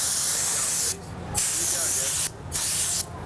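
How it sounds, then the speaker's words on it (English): A black spray paint can hissing in three long bursts separated by short pauses, close and fairly loud. "It's a black spray, just to write my name."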